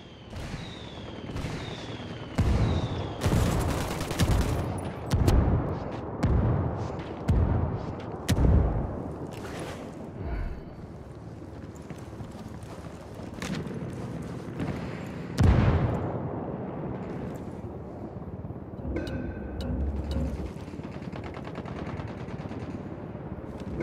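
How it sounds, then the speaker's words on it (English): Mortar fire rains down in the video game Ghost Recon Wildlands, with a rapid series of heavy blasts followed by scattered booms and a rumbling background. "I called the rebels for mortar fire."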